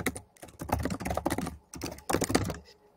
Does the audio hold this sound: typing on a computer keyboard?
yes